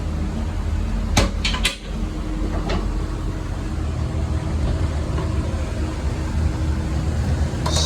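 A vanity storage cabinet door beneath the sink aboard a Jeanneau 1095 boat, opening and closing with a few sharp wooden knocks and clatters close by, then a quiet background hum.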